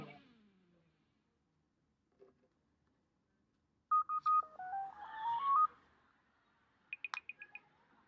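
Cell phone keypad tones from texting, a quick run of short electronic beeps stepping through different pitches, then a brief cluster of sharp clicks, set against near silence.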